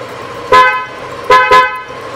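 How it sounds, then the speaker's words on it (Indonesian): A loud, bright snail horn on a 2018 Yamaha Aerox 155 scooter honks three times: one short blast, a pause, then two quick blasts close together. "Jadi klaksonnya sudah diganti dengan klakson keong"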